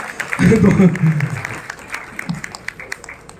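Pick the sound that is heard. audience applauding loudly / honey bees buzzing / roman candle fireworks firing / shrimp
audience applauding loudly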